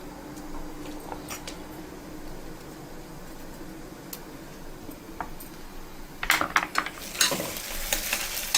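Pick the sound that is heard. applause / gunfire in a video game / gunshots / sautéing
sautéing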